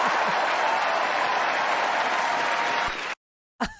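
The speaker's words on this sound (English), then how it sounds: "I got the big applause out for her." An audience applauds with dense, steady clapping at a moderate distance, which cuts off abruptly near the end before a short burst returns.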